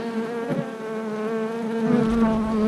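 Honeybees buzzing in an open hive, a dense steady drone with a clear pitched hum up close, swelling slightly louder toward the end, with no voices.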